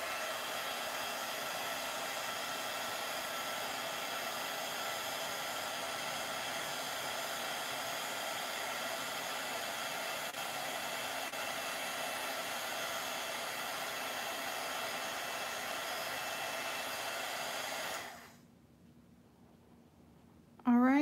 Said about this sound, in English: Now I'll heat set this.